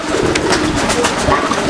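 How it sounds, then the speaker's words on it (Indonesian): A grey racing pigeon of medium size cooing close by, low throaty coos repeating over a steady background hum. "Ini merpatinya."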